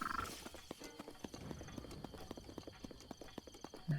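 Horse hooves clip-clopping at a steady trotting rhythm in the video game Zelda: Breath of the Wild, fairly faint with light game background sounds and a brief whinny-like noise near the end.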